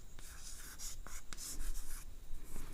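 Chemistry notes written by hand on a board or page, heard as close, scratchy strokes in short bursts with brief taps between them, and no one speaking.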